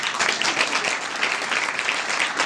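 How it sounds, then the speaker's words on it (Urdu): A church congregation applauds for Jesus during a fasting sermon, a dense, steady wash of many hands clapping close and loud throughout with no pause. "ذرا زوردار یسوع کے لیے تالیاں بجائیں"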